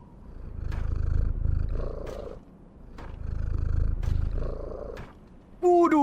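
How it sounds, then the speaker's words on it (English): A small kitten purring in a World of Warcraft role-play podcast scene, a low rumbling purr swelling and fading in two long breaths, ending with a brief high mew. "Well, hello there, little kitten. Aren't you just the teeniest little thing?"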